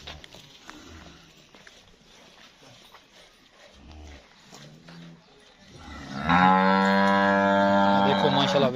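A Jersey Cholistani cross cow, offered for sale in Pakistan, lets out one loud, drawn-out moo near the end, after several seconds of quieter rustling and faint background noise.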